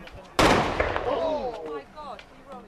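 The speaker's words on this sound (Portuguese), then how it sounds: "De repente, uma explosão." A sudden loud blast from a police detonation of leftover bombs booms out and rolls away, followed by a lingering rumble and faint distant voices.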